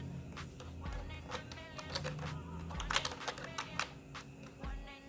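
Quiet, irregular tapping of keys on a computer keyboard, with quick bursts of keystrokes and short pauses, close and soft against a faint background hum.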